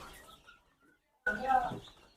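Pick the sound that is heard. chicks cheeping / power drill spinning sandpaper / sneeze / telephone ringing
chicks cheeping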